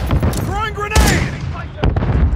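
Gunfire in Call of Duty, several sharp close shots and a heavy blast among shouting and bursts of chatter.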